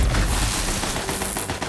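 Rapid gunfire from the shooter game Borderlands 3, a dense continuous burst of shots with booming low end, loud and close, with no talking over it.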